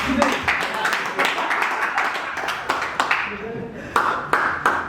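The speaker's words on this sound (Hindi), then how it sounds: "एक बार जोरदार तालियां जनाब सुदेश।" Audience claps on a comedy show as a performer named Sudesh walks on for a shayari session: scattered, uneven hand claps with sharp individual slaps standing out, mixed with lively crowd chatter and voices.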